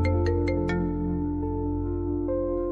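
A mobile phone ringtone plays nearby, a melodic electronic tune with a few quick chime notes at the start followed by sustained tones, heard alone without talk.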